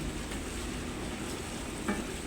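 Chicken liver adobo with bay leaves and ground black pepper is stirred in a pan, giving a steady close sizzle with a soft scrape near the end and no talking.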